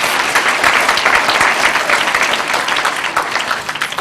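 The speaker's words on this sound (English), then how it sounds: "let's give your parents a round of applause" Loud, sustained audience applause at a school district event, thanking parents, with a full crowd clapping steadily and evenly from start to finish.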